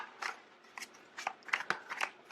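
Tarot cards handled during a card reading, a series of quick crisp rustles and snaps in short bursts, close and fairly quiet, with no talking.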